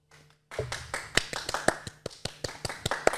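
A person clapping hands in a podcast setting, a run of sharp, separate claps at a loose, steady rhythm, close and fairly loud after a brief quiet start.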